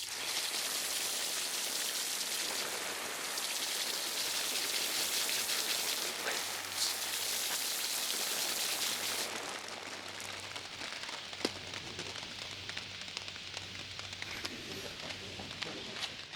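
A water spray rinses cleaner off a Volkswagen transmission with a dense, loud hiss of spattering water up close, thinning partway through into lighter patters and drips.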